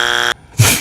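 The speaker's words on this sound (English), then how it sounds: "I put the big red X buzzer on every single one of us" A harsh, loud electronic buzzer for a big red X wrong-answer signal blares for about a third of a second, cuts to near silence, then a second burst of noisy sound follows.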